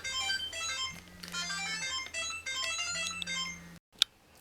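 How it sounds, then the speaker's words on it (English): A mobile phone plays a melodic electronic ringtone with repeating notes and a sustained tone, close and moderately loud, ending abruptly with a click. "my phone was just ringing"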